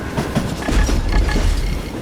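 A train rumbling along in the video game Call of Juarez: Gunslinger, a loud, continuous heavy roar with faint rhythmic clatter, close and without voices.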